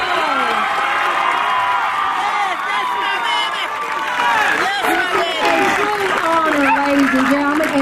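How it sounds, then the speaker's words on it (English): Stadium crowd at a high school football game between Trask and West Columbus, applauding and cheering with whoops, loud and continuous, mixed with many overlapping voices. "Please stand and give Denari Happy Feet Mac a round of applause."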